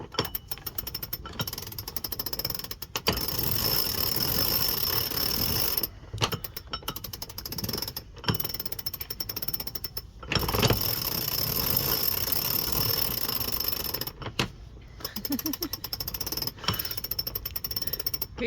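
A sailboat winch is cranked through its high, low and medium gears, giving a steady run of loud mechanical ratcheting and clicking. Brief pauses mark each change of gear.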